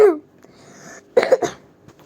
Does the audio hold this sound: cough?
yes